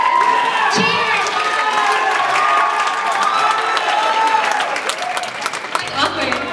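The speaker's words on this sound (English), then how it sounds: "Can you guys like clap?" A crowd claps and cheers at a youth charity dance event, with steady applause, shouts and whoops mixing together, and voices of young people calling out over the noise.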